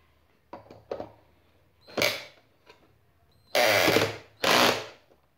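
A 12 V cordless screwdriver, QFC1012-25N by CR Ferramentas, buzzes in short bursts, then runs in two louder, longer spells as its torque clutch engages, close and alone with no talk.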